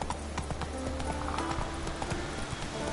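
Horse hooves trot in a steady clip-clop rhythm in the video game The Witcher 3: The Wild Hunt, close and clear over faint game ambience.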